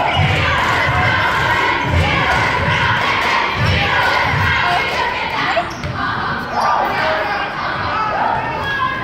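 School cheer team chanting loudly at an 8th grade boys basketball game in a gym, rhythmic crowd shouts over sneaker squeaks and ball bounces, with spectators chattering nearby.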